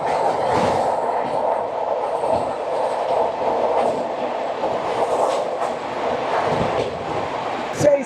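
Train 18237, running from Bilaspur to Amritsar, passes the Gatimaan Express on the opposite track with a steady, loud rumble and rattle of rail cars, heard close from on board, with faint voices now and then.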